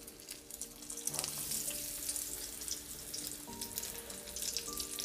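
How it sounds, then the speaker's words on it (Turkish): Battered zucchini and eggplant fry together in hot oil in Greek taverna style, giving a soft, steady, crackling sizzle that holds throughout, with no voices. "Kabaklarla patlıcanları aynı anda kızartabilirim."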